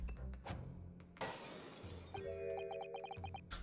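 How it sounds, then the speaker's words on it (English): Glass bottle shattering in the Great Ace Attorney 2 video game: a sudden loud crash of breaking glass with a bright scattering tail, set among game music and sound effects. "when he threw the bottle, instead of hearing it, like, shatter"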